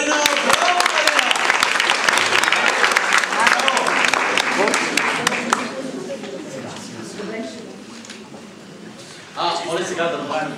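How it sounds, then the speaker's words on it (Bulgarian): An audience at a Bulgarian church event claps for a woman named Marina, dense applause that fills the first half and then thins to scattered claps, with a voice speaking over it near the end. "И специални аплодисменти за Марина."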